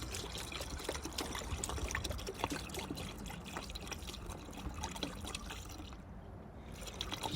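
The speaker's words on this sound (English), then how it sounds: "pouring slow because I don't want it to go everywhere" Coolant trickles slowly and steadily into a car's cooling system as a faint, continuous pour with soft splashes, close by and otherwise quiet.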